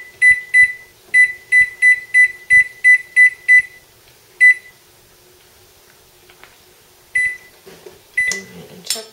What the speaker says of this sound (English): Alright, I'll set my timer for about 20 minutes.